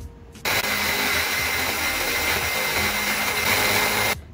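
A high-power blender whirs continuously as it mixes homemade peanut butter, starting abruptly, holding a loud, steady motor drone for nearly four seconds, then cutting off.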